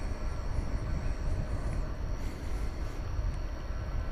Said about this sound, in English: this is Singapore Airlines cargo going to Brussels, 747-400